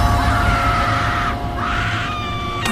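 A woman's sustained, shrill screaming fills the clip loudly and without break as a horror-story sound effect, with a low rumble of road noise beneath.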